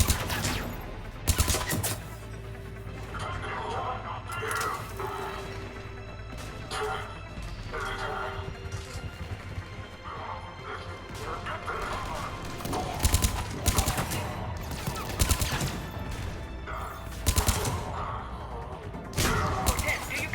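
Video game gunfire crackles in dense, repeated bursts and volleys through a busy battle mix, with sharper cracks standing out near the end.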